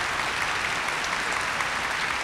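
A concert audience at the Seoul Arts Center applauds Mikhail Petukhov after his performance. Dense, steady clapping from a large hall fills the whole stretch, with no talk.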